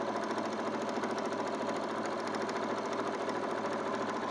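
A sewing machine stitches through Velcro straps with a fast, even mechanical whirr and rapid needle ticking, steady and moderately quiet throughout.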